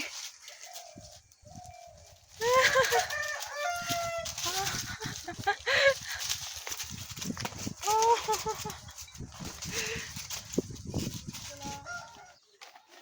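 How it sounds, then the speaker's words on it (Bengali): Chickens squawk and cluck in agitated bursts during a chicken fight, with wingbeats and scuffling over a noisy outdoor background in the Sundarbans; voices chatter nearby. "এখন মুরগির লড়াই চলছে"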